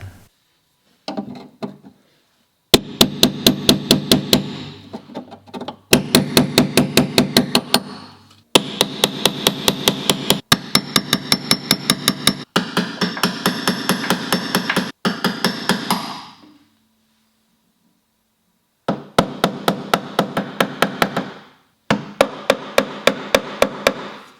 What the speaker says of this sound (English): I was able to repair the dent with the hammer